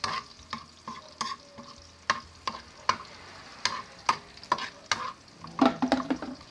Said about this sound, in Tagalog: Gisa-gisa. Mix na natin yung ating sibuyas.